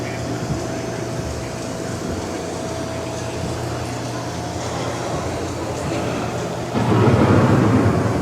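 A thunderstorm sound effect rumbles inside the Living With The Land boat ride at Epcot, a low steady roar that swells louder near the end, with a narrator's voice over it.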